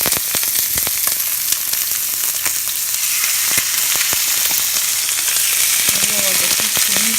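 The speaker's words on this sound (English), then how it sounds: "We'll put the chicken in the frying pan, skin" Chicken pieces sizzle skin-side down in a hot frying pan with spices, a steady broadband crackle and spatter throughout, close and fairly loud, with a few sharper pops scattered across.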